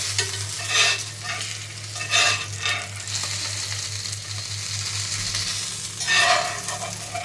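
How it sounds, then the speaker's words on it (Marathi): Rava-coated bangda mackerel shallow-frying in a pan: a steady, close sizzle runs throughout, with recurring louder bursts of spatter and scraping as the fish is turned. "मासे भाजताना असं दोन्ही कलत्याने मधोमध धरून साईडनं पण छान असं भाजून घ्यायचं असतं"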